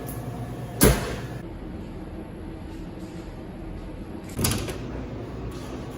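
A Convotherm Mini combi oven door is opened in a kitchen, giving a sharp clunk near the start and a softer latch thump a few seconds later over a quiet steady hum of the running oven.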